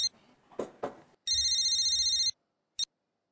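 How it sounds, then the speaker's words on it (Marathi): A telephone rings once, a close, loud electronic ring lasting about a second with a brief second chirp after, following a short bit of talk in a Marathi TV serial household scene. "वहिनी फोन बोल."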